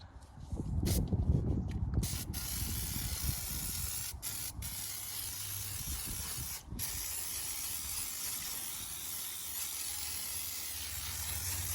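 Coolant hisses steadily as it is bled from the heater hoses of a truck called Big Red. The spray is close and loud at first, with a few faint mechanical clicks, then settles into a continuous even hiss, with no talking.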